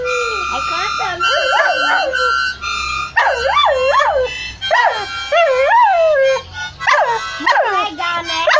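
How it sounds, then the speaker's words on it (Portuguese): A dog howls in long rising and falling wavering notes, as if singing, in repeated phrases with short breaks, loud and close throughout. "meu cachorro cantando"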